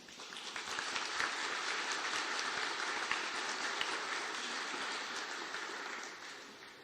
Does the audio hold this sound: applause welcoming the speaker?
yes